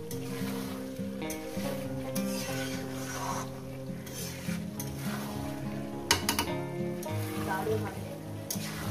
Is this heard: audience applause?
no